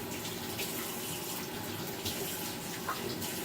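Tap water runs steadily into a sink during lab cleanup, a continuous close splashing rush with no breaks.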